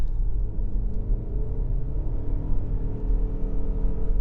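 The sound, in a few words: Mazda CX-50 Hybrid accelerating at wide open throttle uphill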